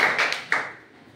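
Students in a government school classroom give a short burst of hand clapping, a few quick claps over just over a second, fairly faint and close.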